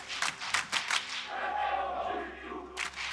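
Fans in an esports arena at a League of Legends semifinal cheer and clap, a short swell of crowd noise under sharp bursts of applause, fairly loud and continuous across the moment.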